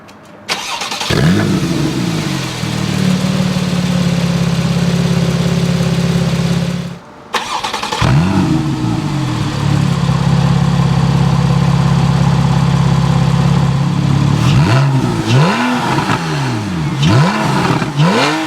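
A 50th-anniversary Porsche cranks and fires twice, each start rising into a loud rev before falling to a steady idle, with more blips of throttle near the end.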